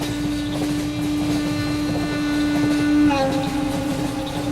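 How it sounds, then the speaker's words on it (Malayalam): A moving train rumbles steadily throughout, with a continuous low drone and a sustained tonal hum that shifts pitch near the end. "ഈ ട്രെയിൻ എവിടേക്കാ പോകുന്നത്?"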